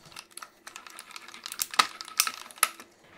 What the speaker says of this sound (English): I'm going to run that through my mini stamp and cut and emboss machine